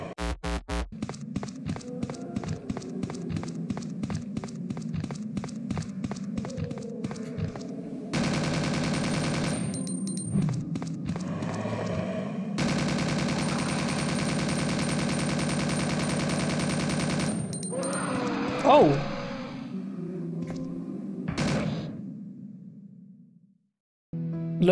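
Video game gunfire in Resident Evil: Deep Freeze: rapid, evenly spaced shots crackle in a fast burst, followed by long sustained stretches of loud firing and a few final blasts before fading.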